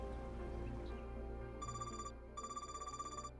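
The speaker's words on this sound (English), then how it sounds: "I don't recognize this ringtone" An in-game phone ringtone from Trails Beyond the Horizon plays quietly as a bright, repeating electronic chime in two short bursts over a low musical background.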